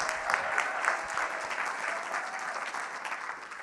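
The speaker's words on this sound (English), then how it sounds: "Please give her a round of applause." Audience applause at a Sunday church service, steady sustained clapping from a crowd that holds at an even level for several seconds.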